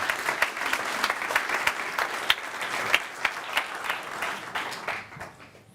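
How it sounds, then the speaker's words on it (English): Applause from a meetup audience at a last-mile delivery tech talk, a dense crowd clapping steadily with scattered louder claps, then thinning and fading out near the end. "Please applause for Dana"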